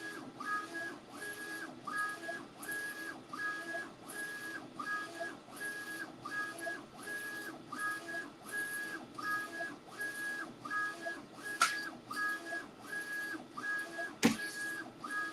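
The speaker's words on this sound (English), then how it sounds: "Something is done in the 3D printer." A 3D printer runs with rhythmic, repeating whirring motor pulses and faint whistling stepper tones, steady and fairly quiet at close range, with a couple of sharp clicks near the end.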